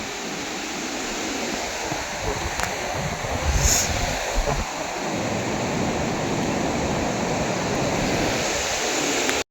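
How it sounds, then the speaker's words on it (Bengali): Sea waves breaking on the Bay of Bengal shore, a steady broadband wash of surf that swells and recedes throughout, with wind noise and no speech. "ঢেউ কিভাবে আসছে"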